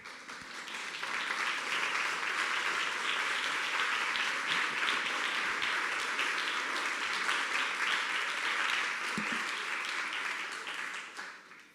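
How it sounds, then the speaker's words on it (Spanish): A standing audience gives a strong round of applause to welcome a speaker at a lecture; thick, sustained clapping swells in, holds loud and steady for about ten seconds, then fades at the end. "los invito a que de pie y con un fuerte aplauso"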